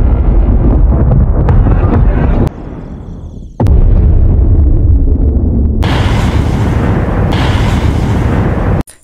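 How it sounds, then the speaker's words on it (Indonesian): A loud, sustained blast as a rocket blows up a lab, with a brief cutoff and sweeping fall, then heavy rumbling and roaring noise that stays intense to the end. "melepaskan roket untuk meledakkan lab tersebut"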